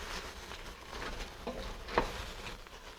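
Tomato paste is stirred through a pot for a French prawn bisque, with a soft, steady sizzle and a few scraping strokes, one louder knock near the end.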